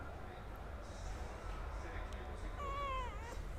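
A pet cat gives one short, rising meow near the end, over steady low background noise and voices.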